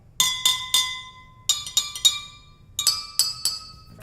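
Water-filled glasses of a homemade glass xylophone struck in quick groups of bright, ringing clinks, close and clear with short pauses between runs, no talking.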